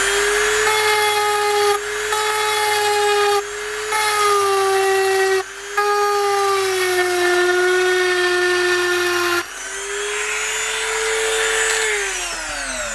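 Rotary tool engraving a smiley face into the back of a tablet: a loud, continuous high-pitched whine with a steady pitch, briefly dipping as the bit lifts and touches down and dropping slightly near the end, alone without talk.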